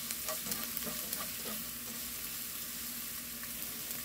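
Minced garlic fries in oil in a pan for a Korean stir-fried dried anchovy side dish (myeolchi bokkeum), giving a steady close sizzle with light stirring scrapes and no talk.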